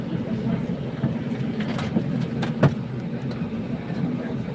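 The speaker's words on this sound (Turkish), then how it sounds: "Ve şu an kalkacak arabamız. Hareket ediyor." A car sets off and drives along, giving a steady low engine and road rumble with one brief thump partway through.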